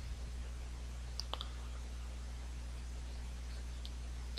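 Computer mouse clicking a find button on a Korean public i-PIN website, a few sharp close clicks over steady low hum.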